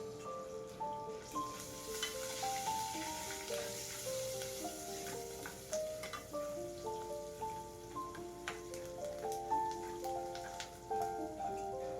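Spices with turmeric and salt frying in a pan for a chitranna rice dish, a soft continuous sizzle with light crackles under it, and a steady tonal hum above.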